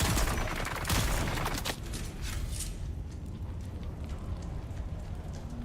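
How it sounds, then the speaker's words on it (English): Gunfire in the video game Dune: Awakening, a dense rattling burst of rapid shots that is strongest at the start and fades into a softer crackle. "This guy's trying to shoot me through the floor"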